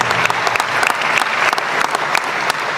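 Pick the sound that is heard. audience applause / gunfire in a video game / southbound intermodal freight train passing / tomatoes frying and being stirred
audience applause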